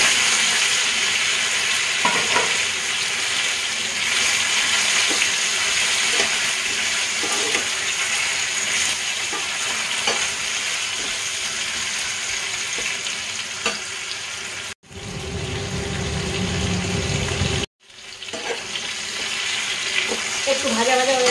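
Boiled taro pieces fry in hot spiced oil in a pan, giving a steady loud sizzle for most of the stretch, with occasional stirring scrapes and two brief breaks near the end.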